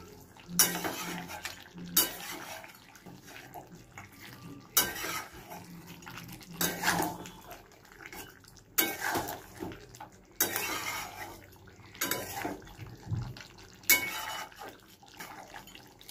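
Prawn and chicken curry simmering in a pot gets stirred in repeated bursts of spoon scraping and clinking against the metal, with a soft bubbling underneath between strokes.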